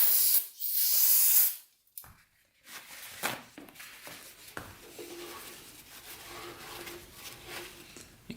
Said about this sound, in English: We're going to clean that off with some brake cleaner first, just so those threads get cleaned up.